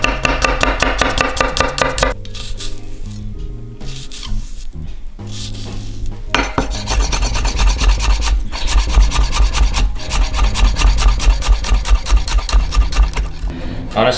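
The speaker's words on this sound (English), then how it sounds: "I'll use about 4 cloves for this, and we're just gonna give this a nice slow mince" Several garlic cloves get minced with a knife on a cutting board, rapid rhythmic chopping and scraping taps that run nearly continuously, close and loud, pausing briefly midway before resuming.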